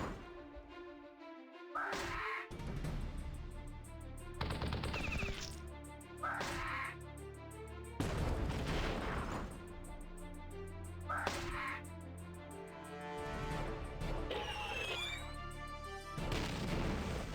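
Tanks attack in the Battle Nations strategy game, with repeated heavy impacts, crashes and whooshing effects over a continuous layer of game music, loud and busy throughout.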